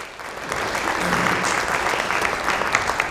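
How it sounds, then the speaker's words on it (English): Round of applause from an audience at an institutional state-of-the-nation address, clapping rising quickly after a brief moment and holding as a full, even wash with a few sharper claps standing out. "quick pause and round of applause for all of you"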